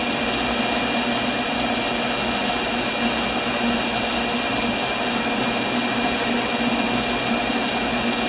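A metal lathe takes a steady cutting pass while making tailstock die holders, the chips breaking into short pieces; a continuous, even machining whir with a constant motor hum runs loud and unbroken throughout.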